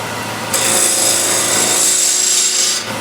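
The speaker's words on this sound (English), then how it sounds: "for that I'll be using square end scraper" A square end scraper shaves a spinning piece of wood on a woodturning lathe, giving a steady, loud rasping hiss that starts abruptly, holds for about two seconds and then stops.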